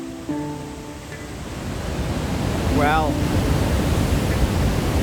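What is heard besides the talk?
waterfall roaring, Bad Gastein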